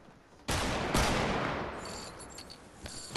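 Semi-automatic sniper rifle fire in a video game, two loud close shots about half a second apart, each with a long noisy tail, followed by fainter clanks and a sharp click at the end.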